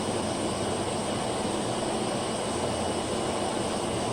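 A Miele Jazz S7280 vacuum cleaner runs steadily during a suction test with all filters in, a constant loud broadband whoosh of motor and airflow with no pauses.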